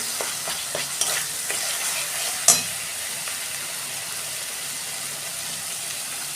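Spice paste for tengra fish curry sizzles in oil, a close, even frying hiss with a few stirring scrapes early and one sharp clack before settling into steady sizzling, no voices.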